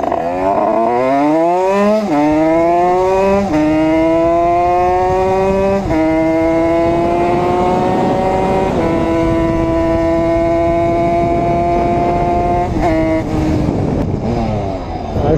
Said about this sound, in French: j'ai fait assez gueuler la moto pour aujourd'hui en tout cas